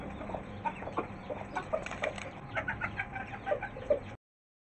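Seven-day-old chicks chirp just before their evening feed: a flock of small, high, scattered peeps overlapping in quick bursts at moderate distance, cutting off abruptly at the end.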